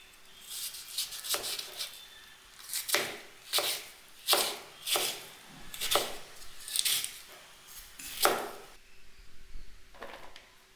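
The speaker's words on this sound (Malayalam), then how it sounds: "ഇനിയിപ്പോൾ അതൊന്ന് നുറുക്കാം." Vegetables being chopped on a board for erissery, a Kerala curry: about a dozen crisp, close knife strokes at an unhurried, uneven pace, with no talking.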